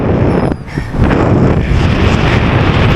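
Loud, steady wind buffeting the microphone at a paragliding site in Manali, a continuous roar that briefly dips before surging back, with no talking over it.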